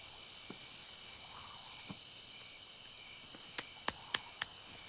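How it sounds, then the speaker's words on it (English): A steady high insect trill fills the night air, with a few sharp clicks and faint croaks scattered near the end. "You hear those crickets?"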